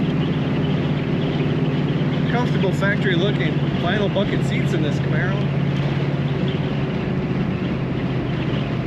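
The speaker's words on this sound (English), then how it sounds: "Just can't get over the exhaust note and throttle response of this car." A 1969 Chevrolet Camaro RS convertible, top up, drives along with a steady, loud engine and exhaust drone that fills the cabin, while someone talks over it.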